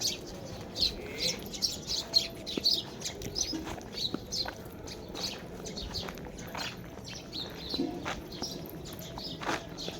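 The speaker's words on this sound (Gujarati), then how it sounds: "ચકલા કેવા બોલે છો હાંજના ટામે" Many sparrows chirp and twitter busily at a moderate distance in the evening, an overlapping chorus of short, bright calls over a soft outdoor background.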